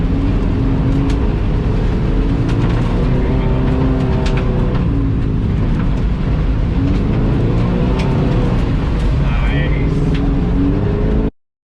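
Car driving a slalom course, weaving in and out of cones, its engine droning steadily and loudly throughout with changing pitch as it turns and accelerates, close by.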